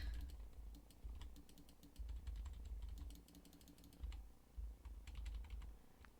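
Quick, uneven typing on a computer keyboard during a cat-clan game session, close and fairly soft, with bursts of clicking keys and short pauses over a low background hum.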